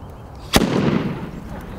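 A fire-extinguishing grenade bursts outdoors during a fire-brigade tactical drill in a park, a single sharp loud bang followed by a rushing, hissing spray that lingers over steady background noise.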